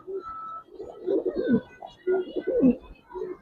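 Giribaz and coloring pigeons coo in a loft, several soft throaty rolling coos rising and falling close by, with brief gaps between the calls.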